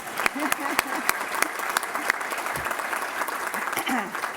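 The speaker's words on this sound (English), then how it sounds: "we can clap now" An audience at a talk on global food systems breaks into sustained applause, close, dense clapping with sharp individual claps, while a faint voice is heard underneath.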